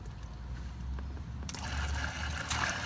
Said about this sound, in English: I'm going out to the shower drain, and I'm going to turn on the cold water